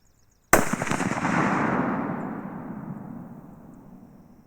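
A single sharp gunshot from a Ruger American 30-06 rifle firing Winchester 150 grain ammunition, a loud sudden crack outdoors followed by a long rolling boom that fades over several seconds, with no speech.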